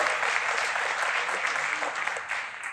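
Audience applause during a French live stream about ChatGPT plugins, a steady wash of clapping heard alone for a few seconds.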